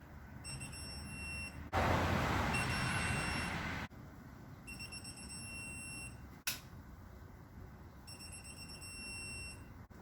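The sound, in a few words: beep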